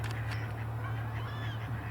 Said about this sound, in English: more Canada geese